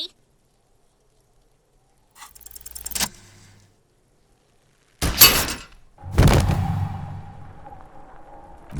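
In the Disco Elysium video game, a gunshot shatters a belt buckle: faint metallic clinks, then a sharp loud blast, and a second crashing burst that trails into a sustained whirring ring.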